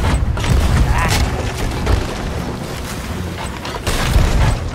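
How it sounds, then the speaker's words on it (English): A ship's broadside cannons fire a barrage during a naval fight in Sea of Thieves. Deep, loud booms come at irregular intervals, with thuds and crashing mixed in over the game's background noise. "I began the barrage from our broadside as they closed in."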